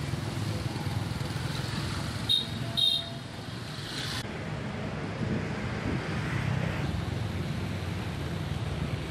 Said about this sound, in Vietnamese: hàng dài xe máy phải nối đuôi nhau